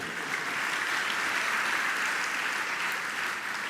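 A large audience at a religious discourse claps together in a continuous, even burst of applause that holds steady from start to finish.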